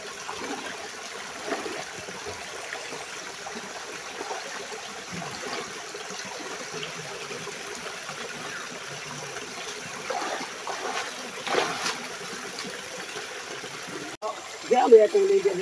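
A stream below Balinasan Falls in Benabaye, Merida, Leyte flows with a soft, continuous trickle and light splashing, moderately close, with a few louder bursts toward the end.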